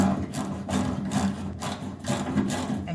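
A speed wrench is cranked on a bolt of a 1966 Pontiac Catalina wagon, giving a rhythmic ratcheting whir in regular bursts about every half second, close and moderately loud.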